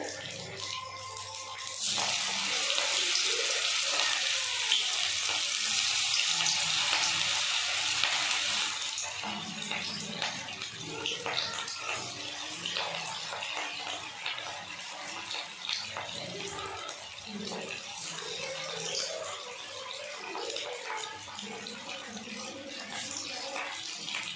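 Stale rice pakoras sizzle in hot oil over medium-low heat, a loud bright hiss at first that settles into steady close crackling and bubbling, with a voice talking over the frying.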